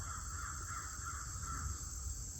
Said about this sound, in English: You hear those knocks and those crow calls?